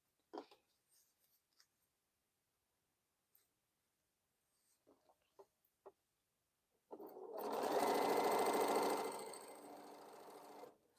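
After scattered soft clicks and handling taps, a sewing machine stitching Crown Royal quilt pieces starts up loudly and runs continuously for about four seconds before easing off slightly.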